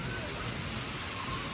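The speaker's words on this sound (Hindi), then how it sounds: "ये कल वाली स्पीड से बारिश लगी हुई है वापस" Steady rain falls outside during a rainy spell, a dense, even hiss that holds constant and fairly loud throughout, with no breaks or talk.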